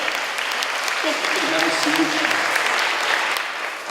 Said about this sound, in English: Let's give them a nice round of applause, too.